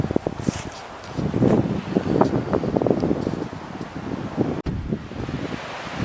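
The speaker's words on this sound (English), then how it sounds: "the wind is kind of blocked in here" Wind gusts through the pine barrens at Peconic Bog County Park on a blustery, sunny day, a steady broadband rush with rustling that swells and eases, close to the microphone and buffeting it, with no talk.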